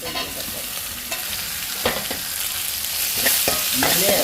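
Ginger-garlic paste and tomato hit hot oil with a loud, continuous sizzle, broken by repeated scraping and clattering of a spoon stirring in the pan, close and busy throughout.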